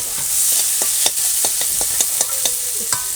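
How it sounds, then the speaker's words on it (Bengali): Chillies fry with cumin and onion in oil while a spatula stirs the pan, giving a loud, close sizzle broken by regular scraping strokes about every half second. "লঙ্কা আর একটু ভাজা ভাজা হবে"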